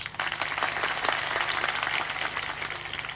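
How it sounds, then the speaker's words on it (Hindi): Audience applause at a satsang, a large gathering clapping together in a hall, a dense continuous patter lasting a few seconds at a steady level. "ताली बजा दो"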